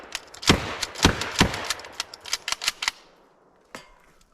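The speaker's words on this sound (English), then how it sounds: "so I'm gonna slam fire 6 as fast as I can" Antique pump shotgun slam-fired in rapid succession: a string of sharp, loud reports with quick mechanical clacks between them, tapering off before one last shot after a short pause.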